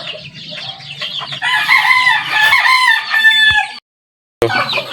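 Battle Cross and Maclean hatch gamefowl roosters crow loudly and close by in a backyard breeding setup, with long overlapping crows, clucking between them and a brief silent break near the end.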